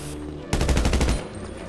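In the GTA Online Doomsday Heist, a rapid burst of automatic gunfire runs for about half a second, close and loud, with a low game hum before and after.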